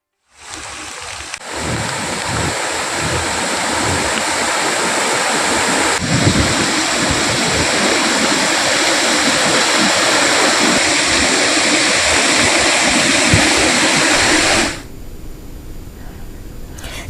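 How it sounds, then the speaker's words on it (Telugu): Floodwater pours heavily over the weir of Komati tank after heavy rains in Siddipet, a loud, steady roaring rush that holds constant for about fourteen seconds before cutting off abruptly. "కోమటి చెరువు మత్తడి నుంచి భారీగా నీరు కిందకు ప్రవహిస్తోంది"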